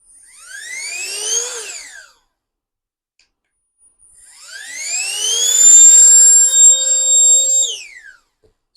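A rechargeable inflatable pool toy air pump whirs loudly in two bursts, a short spin-up and wind-down followed by a pause, then a longer high-pitched run that rises, holds steady and winds down.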